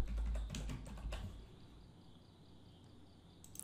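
Fingers tap briskly on a computer keyboard for about a second, then the clicks stop and only a faint, quiet room tone remains.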